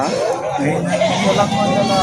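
Goats bleat repeatedly at a busy goat market in Padre Garcia, Batangas, with wavering cries close by, mixed with background crowd murmur and nearby talk.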